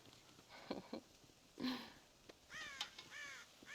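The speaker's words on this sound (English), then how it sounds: "God damn crows!" Crows caw in Red Dead Redemption, several hoarse rasping calls scattered across a few seconds, some nearer and louder than others, with no talk over them.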